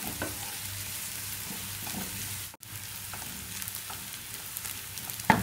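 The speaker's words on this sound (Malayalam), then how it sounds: "ചെറുള്ളി നന്നായി ഇളക്കി നമുക്ക് യോജിപ്പിക്കാം." Shallots frying in a pan while being stirred, a constant close sizzle with soft scraping strokes, one brief dropout midway, and no speech.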